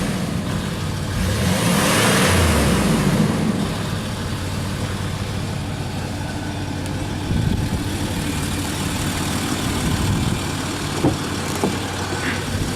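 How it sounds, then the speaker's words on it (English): The V6 engine of a 2006 Land Rover Discovery 3 runs close by with a brief rise in revs early on, then holds a steady, loud idle with a few small knocks. "Pure V6 sound."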